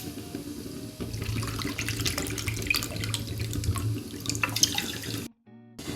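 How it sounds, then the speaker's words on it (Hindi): Two cups of water poured from a measuring cup onto sugar in a pan to make thin syrup for carrot rasgulla, a steady splashing stream running for about five seconds before briefly cutting out near the end. "उसी कप से नाप के ले लेंगे हम 2 कप पानी।"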